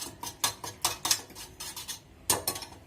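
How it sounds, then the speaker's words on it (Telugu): A spoon beats yogurt in a bowl until smooth, with quick rhythmic clinks and scrapes in bursts, a short pause, then a few more strokes, close and quiet. "ఒక బౌల్లో పెరుగును తీసుకొని దాన్ని ఇలాగా ఉండలు లేకుండా బీట్ చేసుకోండి."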